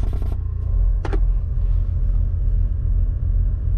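Rear air suspension on a heavily modified car inflates with a steady low mechanical drone, opening with a brief burst of hiss and a second short hiss about a second later.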